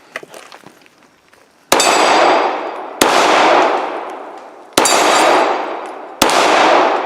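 Four sharp, loud gunshots from a Gen 5 Glock 17 pistol at an outdoor range, spaced about a second and a half apart, each with a ringing decay, after a few faint clicks.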